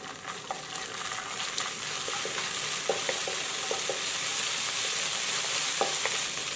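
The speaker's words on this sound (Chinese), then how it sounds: "加小半勺的郫县豆瓣酱，淋入一点熟油，炒出红油。" Pixian chili bean paste and a little cooked oil are stir-fried in a wok after garlic and ginger, making a steady loud sizzle with scattered scraping and clicking of the spatula, close up and without talk.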